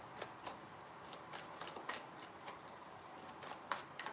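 Tarot cards being shuffled in several quick riffling bursts, close and crisp, with brief pauses between them and no talking.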